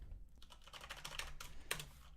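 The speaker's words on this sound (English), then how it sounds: "if you use 2 on your keyboard, 2 and 3, you can change the values up and down like this" Typing on a computer keyboard during a roof-building tutorial, a quick irregular run of soft key presses with one sharper tap near the end, faint and close with no voice.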